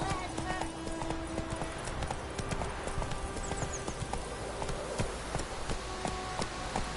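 Horse hooves clip-clopping in The Witcher 3 video game: a steady run of hoof beats under game music and background sound, with voices talking over it.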